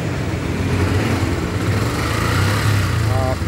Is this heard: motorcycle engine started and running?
yes